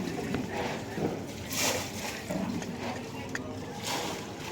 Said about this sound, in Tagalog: Grabe ang baha.